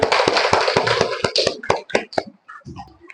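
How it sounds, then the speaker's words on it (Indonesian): Children in a classroom clapping in a quick burst of sharp, close hand claps that thin out into a few scattered claps, with faint voices near the end. "Ya, kita beri tepuk tangan."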